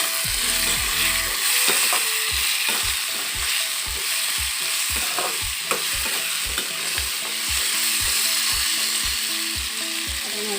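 Chopped jackfruit seeds frying in a pan, a loud steady sizzle punctuated by regular scraping, clicking strokes of a spatula stirring them, rhythmic and close, with no voices.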